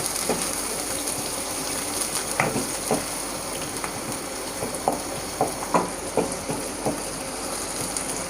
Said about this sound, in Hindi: प्याज को हम अच्छी तरह से